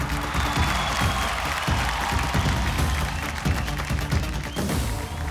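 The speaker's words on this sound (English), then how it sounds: "A big round of applause for the talented superstar herself" A large crowd at the RRR film event applauds and cheers for Alia Bhatt, a continuous loud wash of clapping with a few sharp accents throughout.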